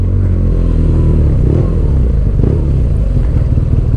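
A BMW R nineT twin-cylinder motorcycle with stock exhaust rumbles up close, a deep, steady loping idle with slight rev swells and clatter running loud throughout.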